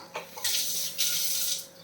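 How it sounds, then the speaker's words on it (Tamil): Half a cup of water poured into a simmering shark fish gravy, a close bright splashing pour that starts, briefly pauses, then resumes with a steady rushing flow for over a second. "ஒரு அரை கப்பு தண்ணி நான் இதில் சேர்த்துருக்குறேன். அதையும் சேர்க்குறேன்."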